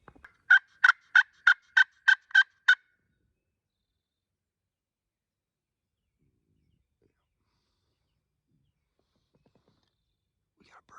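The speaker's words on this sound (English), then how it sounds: "We got a bird gobbling that way." A wild turkey gobbles once during a Wisconsin hunt, a quick rattling burst of about eight pulses, followed by long near-silence.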